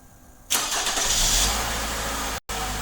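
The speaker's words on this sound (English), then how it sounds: "The vehicle will start and run for 20 minutes." A 2011 Toyota Camry engine starts by remote starter: a sudden crank catches into a steady idle, heard up close, with a brief cut in sound near the end before the idle resumes.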